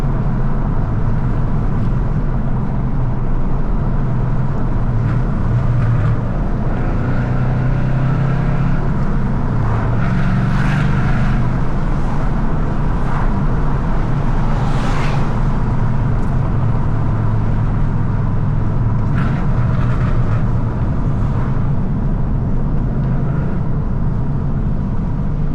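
An untuned Ford Mustang GT with full bolt-ons accelerates with a loud, continuous exhaust roar, heard from inside the car as a dense, sustained rumble throughout.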